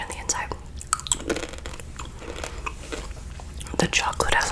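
Close-miked crunching and chewing of small crunchy-shelled, chocolate-filled British candies, with irregular crisp bites and mouth sounds, and soft whispering woven through.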